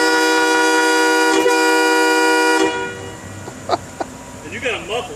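Loud train air horns sound in one long sustained blast of about two and a half seconds, then cut off, leaving brief faint voices and background noise.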